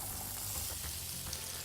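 New potatoes sizzle in hot pure olive oil in a pan, giving a steady, close crackling hiss with no pauses and no talk.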